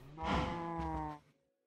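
A Pink Slime cow in the Minecraft modpack Stoneblock 3 gives a single drawn-out moo, about one second long, clear and alone, then fades to silence.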